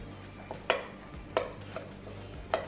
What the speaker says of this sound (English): I'm just going to mix that together.